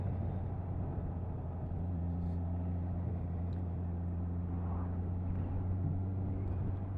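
A Honda CB650R motorcycle engine hums steadily while riding, a low continuous drone with a rising tone as it pulls through the gears, with wind rumble in the background.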